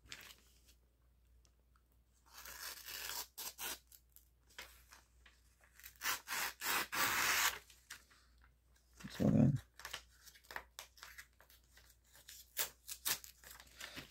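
Damned Designs Oni XL folding knife with an M390 steel blade slicing through a sheet of paper, giving short scratchy cuts and tearing bursts in an irregular run, close and fairly clear, with a voice speaking at points.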